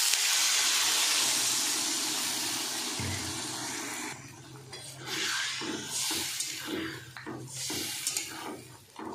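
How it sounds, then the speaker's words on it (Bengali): Water is poured into a pan of frying potatoes for a rohu fish curry. A loud, broad sizzling hiss fades into softer bubbling and splashing, with no voices. "এবার আমি জল দিয়ে দিচ্ছি।"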